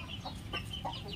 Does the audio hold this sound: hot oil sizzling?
no